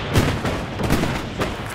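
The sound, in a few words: gunfire in the video game Hell Let Loose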